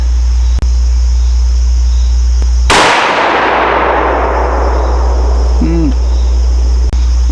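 A single loud gunshot from a Ruger American Gen II rifle in 450 Bushmaster at an outdoor range, a sharp blast with a long decaying tail over steady background noise.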